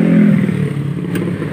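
A Vespa automatic scooter engine running steadily after being started, a loud close low rumble with a slight clatter and uneven idle throughout, no talk over it.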